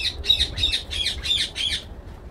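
A bird squawks six times in quick succession, with harsh, evenly spaced calls that are loud and close before stopping abruptly. Outdoor background noise continues underneath.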